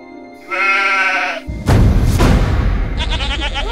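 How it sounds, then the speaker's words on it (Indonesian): A goat bleats loudly in a long wavering call, followed by a thumping, rumbling commotion and then a shorter, higher bleat. "Tuh suara kambing tuh kan?"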